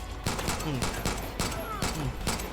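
Rapid bursts of gunfire in Far Cry 5 crackle continuously, with sharp repeated shots and a faint voice mixed underneath.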